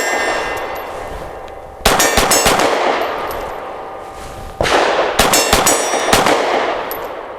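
Two bursts of rapid pistol shots from a Grand Power P1 Ultra, each a string of sharp cracks with clanging metallic ringing and reverberating decay, outdoors and loud.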